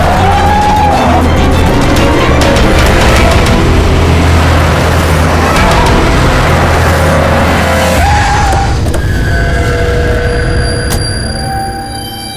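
A taxi races and overtakes in a car chase, its engine roar blended with loud dramatic music, shouts and whooshing traffic in a continuous, intense mix.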